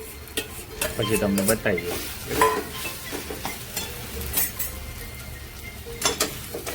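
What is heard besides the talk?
stirring spicy potato samosa filling with red chili powder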